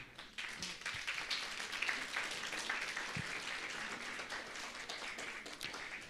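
A church congregation at a Father's Day evening service claps for the fathers present, giving a continuous crowd applause of many close and distant hands with occasional sharper single claps, holding steady throughout.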